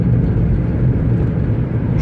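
A 2012 Toyota Prius 3 hybrid with 122,000 km, running on ethanol, rolls and accelerates downhill, giving a steady low road rumble with a faint engine hum throughout and no talking.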